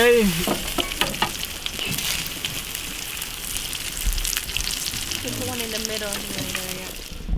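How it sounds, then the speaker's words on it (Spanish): Beans hit a pan of hot bacon grease and fry with a loud, crackling sizzle, accompanied by stirring scrapes and clatter, continuing close up throughout. "ahí entraron las legumbres musicales a la sartén, arriba de toda la grasa que había alargado el bacon"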